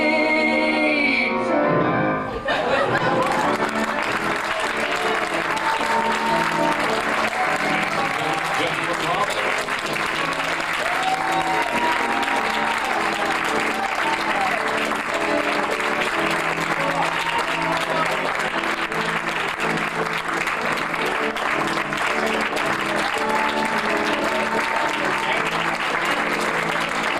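A live audience at a Hollywood party cabaret show gives a sustained, lusty round of applause, dense steady clapping and crowd noise filling the room after a brief lull, with musical tones faintly underneath.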